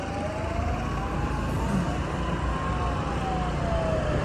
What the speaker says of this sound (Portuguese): toda hora é barulho de sirene